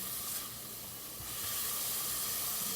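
Vegetables sautéing in a pan for sausage fried rice give a steady, close hiss and sizzle that swells slightly louder partway through, with no voices.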